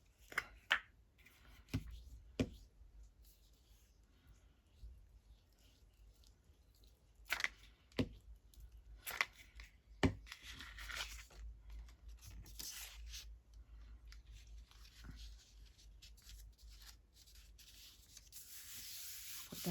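A glue stick rubbed across regular copy paper while decorating a junk journal cover: soft, close scraping strokes come in short bursts with quiet pauses between, no voices.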